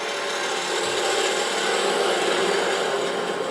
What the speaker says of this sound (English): I'm going to cut a little divot in there.